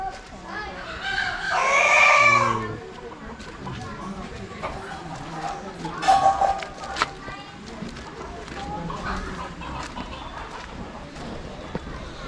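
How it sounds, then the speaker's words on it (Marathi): A hen basking in the sun in a Ratnagiri village yard clucks and squawks in a loud burst near the start, with more fowl calls later, while people talk over it throughout. "तशी ती कोंबडी ऊन घेते बघ"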